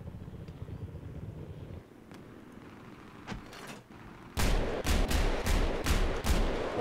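Gunfire in a Battlefield 4 multiplayer match: a few sharp isolated shots, then a loud rapid burst of automatic fire near the end, heard close over a low rumbling battlefield background.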